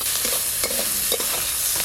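A pan of frying fish and greens gives a loud, continuous sizzle, broken by a few short scrapes and stirring knocks, close up and with no voices.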